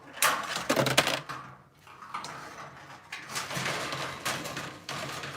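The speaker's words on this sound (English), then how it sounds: "I'm actually just using regular scissors to do this. It's that thin." Regular scissors cut through a thin plastic side body panel, giving a run of close, crisp snipping and rustling strokes, loudest at first and then steadier, with no talking.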